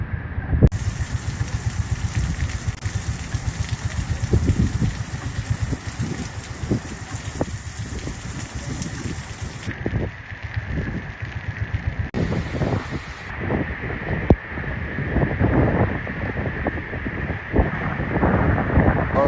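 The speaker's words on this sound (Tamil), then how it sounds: "மழையை பாருங்க, சூறாவளியை விட மோசமாக இருக்குது" Heavy rain from Cyclone Fengal pours steadily with strong gusts of wind buffeting the microphone, a dense, loud roar with no voices.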